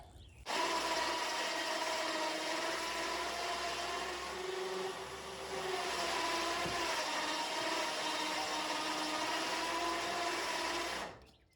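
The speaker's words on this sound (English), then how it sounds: "I don't want this winch line to snap." A trailer winch pulls a 1964 Chrysler 300 onto a trailer, its continuous mechanical whir running close and steady for about ten seconds, easing briefly midway, then stopping.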